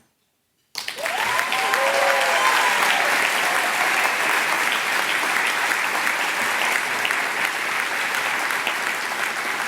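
An awards-ceremony audience bursts into loud, sustained applause for philanthropy honorees, steady clapping filling the hall from start to finish after a brief silence.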